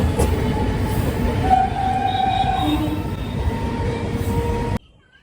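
A passenger train near Mallarpur runs between stations with a steady rumble of wheels on rails, faint clacking and brief squealing tones, heard from on board before the sound cuts off abruptly.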